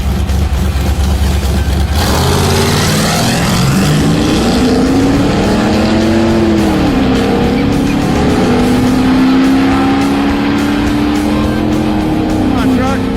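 The Mazdarati race car roars down the drag strip at full throttle, a loud continuous engine note climbing in pitch through gear changes, with voices talking over it throughout.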